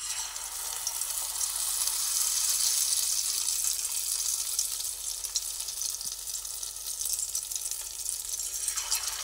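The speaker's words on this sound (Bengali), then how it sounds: "এক এক করে আমি তেলের মধ্যে একটা পিস করে করে তেলের মধ্যে আমি দিয়ে দেব" Pieces of bhetki fish dropped into hot oil in a kadai, giving a steady, bright, crackling sizzle that holds evenly throughout at moderate loudness with no talking.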